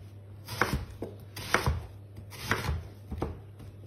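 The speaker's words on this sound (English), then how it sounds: "we're going to roughly chop the onion up" An onion roughly chopped into big chunks with a knife on a board, four or five distinct blade strokes in an uneven rhythm, close and clear with no talking.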